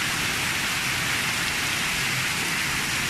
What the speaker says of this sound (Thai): ทั้งลมทั้งฝนมาแหงเลย